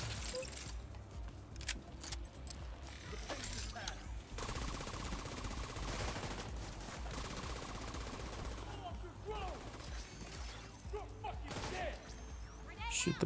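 Rapid automatic gunfire pours onto a boss enemy in The Division 2, sustained bursts across most of the stretch, loud and close with game effects and some voice underneath.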